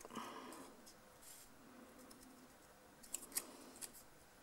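Scrapbooking paper is cut along a straight line with a blade, heard as faint, close snips and light scraping, with a few sharper cutting clicks near the end.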